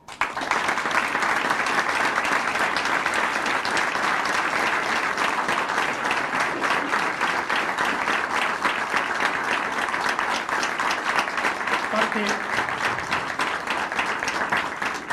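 A crowd applauds steadily at a civic ceremony honouring Malvinas war veterans at an outdoor plaza, sustained dense clapping that holds at even loudness for the whole stretch before trailing off slightly near the end.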